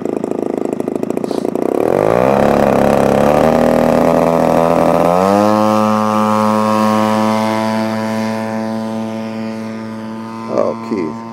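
Close, loud buzzing of a small model de Havilland DH.94 Moth Minor aircraft engine with a wingspan of about 100 inches, revving up sharply and holding a high, steady whine during takeoff without flaps, then gradually fading as it moves away.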